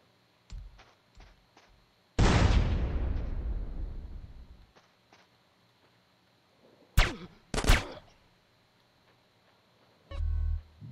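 A single loud grenade blast in GTA San Andreas Definitive Edition, a sharp boom that rumbles and fades over two seconds, followed later by a few sharp gunshots and scattered game clicks.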